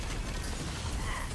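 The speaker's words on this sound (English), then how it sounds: "this gun reloads stupid fast" A video game gun reloading very quickly, with a dense run of mechanical clicks and ratcheting clatter, fairly close and steady over a brief burst, no talking.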